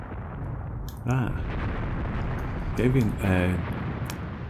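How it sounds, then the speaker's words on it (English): Howitzer artillery fire in the war game Graviteam Tactics, with two or three distant booming shots rolling out over a low rumbling background while someone talks over the action. "Howitzers fired first, or fire came in first."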